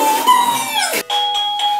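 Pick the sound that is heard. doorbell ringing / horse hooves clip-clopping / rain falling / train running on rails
doorbell ringing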